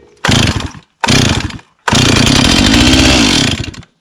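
A Stihl 028 chainsaw engine sputters in two short bursts, then catches and roars for about two seconds before dying away. It is loud and close, with no voices.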